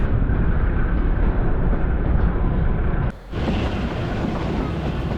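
Toy train climbing a mountain railway toward Shimla in Himachal Pradesh, a continuous loud rumble and rattle of the carriages with clickety-clack from the rails and a brief dip near the end.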